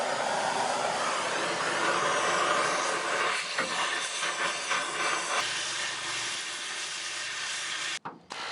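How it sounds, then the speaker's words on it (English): An oxy-fuel cutting torch slices rivet heads off the frame of a 1990 Ford F-150 pickup, giving a steady, loud roaring hiss close by that runs almost unbroken, with a brief drop near the end. "I'm gonna use my torch and cut off these rivet heads."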